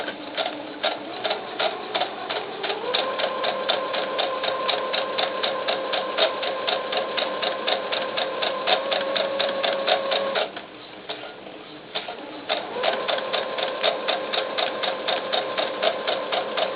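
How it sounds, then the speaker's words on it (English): A sewing machine stitches the inseam of doll pants in two long steady runs of rapid mechanical clatter, close and even, separated by a short pause. "we are going to sew our inseam together"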